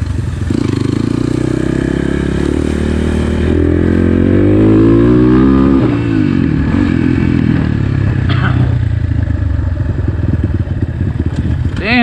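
A 2021.5 GPX FSE 250 E dirt bike pushes through tall overgrown grass, its engine droning loud and close with rising and falling revs, a throttle burst toward the end, and clattering, scraping brush noise throughout.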